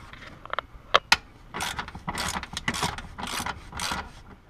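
Bolts come out of a Polaris Slingshot light with a ratchet wrench, a few sharp clicks followed by rapid repeated ratcheting bursts, close and alone.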